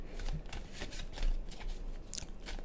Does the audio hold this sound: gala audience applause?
no